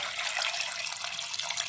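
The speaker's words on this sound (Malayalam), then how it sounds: "ഇനി വെള്ളം ചേർത്ത് കൊടുക്കണം." Water from a tap runs steadily into a pressure cooker holding tapioca, salt and turmeric, a continuous close splashing hiss with no talk.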